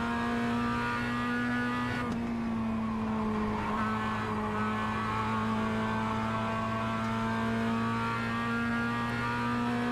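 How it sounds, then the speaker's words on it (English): A GT3 race car engine in iRacing drones at a steady high pitch, holding a constant loud whine with a brief shift partway through. "It's the better sounding GT3 car out there for me."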